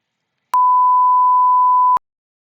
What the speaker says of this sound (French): si vous entendez un bip à la place du nom,